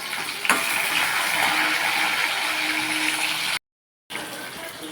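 Steady broadband sizzling of onions, garlic and curry leaves sautéing in a pan of oil, continuous and close, with a brief silent gap near the end.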